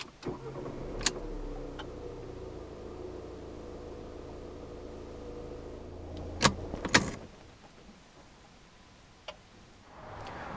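Diesel engine of a 2015 Alfa Romeo Giulietta 1.6 JTDm cranking and starting with the door closed, a steady close idle rumble with a few sharp clicks and ticks before it cuts off.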